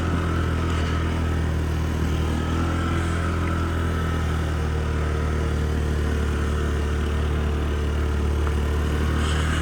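A Yamaha Gear four-stroke fuel-injected scooter engine runs at a steady idle, a continuous close, low mechanical hum with even putter and no voices over it.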